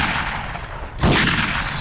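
Video game gunfire cracks out as a sudden loud burst midway, rising out of a constant background of rumbling game noise and staying heavy afterward.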